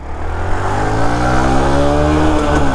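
A Bajaj Platina 100cc motorcycle and electric scooters, including Ather 450X, Ola S1 Pro and Revolt RV400, pull away together in a drag race, with a loud, close engine drone rising in pitch under steady wind rush.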